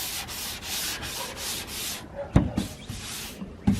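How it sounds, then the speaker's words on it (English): A wood sanding block rubs steadily over the body of a 1979 Honda Prelude being prepped for paint, giving about two seconds of close, rhythmic scratchy strokes, then a few sharp knocks and handling bumps. "I'm gonna be blocking it with a wood block"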